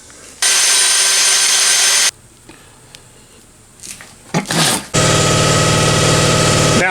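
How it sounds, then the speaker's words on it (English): A drill press whines loudly at steady speed boring a through hole, stops, then after a few quiet clicks and handling noises starts again and runs continuously. "So it's going to go ahead and drill this."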